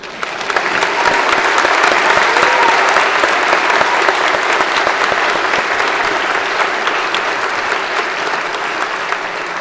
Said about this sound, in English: We can clap. We can clap now.